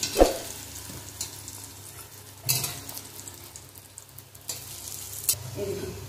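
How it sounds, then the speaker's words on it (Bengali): Pieces of chana dal dhoka (Bengali lentil cake) frying in oil and being flipped one by one, a close sizzle broken by sharp spatula clinks and scrapes against the pan, no voices. "এক পিঠ ভাজা হয়ে গেছে, উল্টিয়ে দেবো।"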